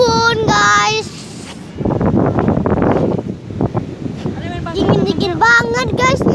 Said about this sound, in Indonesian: Dingin banget guys anginnya.